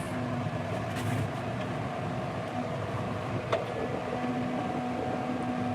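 A brand-new Massey Ferguson tractor runs at a steady, continuous engine drone with a low rumble and no talking, loud and close throughout.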